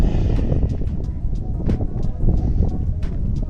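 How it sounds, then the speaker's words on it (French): Strong gusts of wind buffet the microphone at the entrance to La Rochelle harbour, a loud rumbling roar with repeated bursts throughout, mixed with faint background noise. "J'espère que vous m'entendez bien avec le vent."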